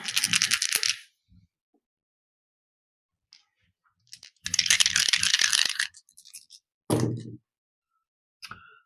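Four dice rolled in a board game, three separate bursts of clattering rattles and tumbling clicks with quiet gaps between them, close and fairly loud, and no talking.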